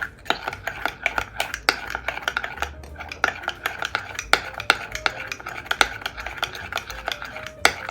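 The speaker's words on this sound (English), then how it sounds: "And now I'll give everything a good stir." A spoon stirs a simple Depression-era salad dressing of lemon juice, sugar and heavy cream in a bowl, giving quick, repeated clinks and scrapes against the dish at close range, with no talking.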